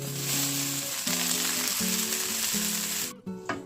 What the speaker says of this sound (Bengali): এবার আমি দিয়ে দেবো ধনিয়া পাতা আমি এখানে কেটে ধুয়ে পরিষ্কার করে রাখা ধনিয়া পাতা দিয়ে দিলাম